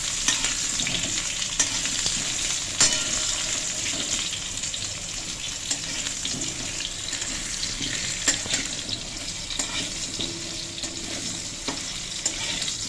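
Potatoes with tempering spices, cooked for a soybean khichuri, sizzle in a frying pan in a steady close-up hiss, broken by the scrape and clack of a spatula stirring at irregular moments.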